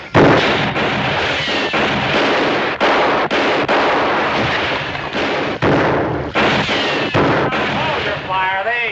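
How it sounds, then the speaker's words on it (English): Loud gunfire in a Western TV drama shootout: a sustained volley of overlapping shots and blasts, close and dense, running almost without a break. "Hold your fire. They ain't shooting back."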